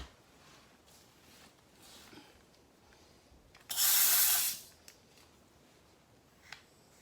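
Air suspension bags on a Chevy C20 get a single burst of compressed air, a loud, close hiss lasting about a second that starts and stops sharply, with faint handling noises before and after.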